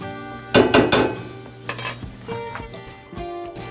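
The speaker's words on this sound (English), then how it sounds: "And keep on stirring. That's what makes really, really creamy grits." Grits stirred in a pot, with a few loud scraping strokes near the start, then softer scrapes and faint clinks of the utensil against the pot close by.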